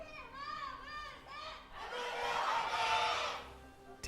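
Fans at an LCK esports match between BBQ Olivers and MVP cheer and shout together, a crowd roar swelling in the middle and then easing, heard after a few spoken words.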